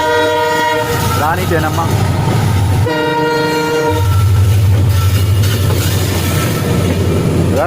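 A loud, sustained multi-tone train horn sounded by an Indian locomotive, blaring in long blasts with a short break, over the steady rumble and clatter of the moving train, with a voice announcing briefly.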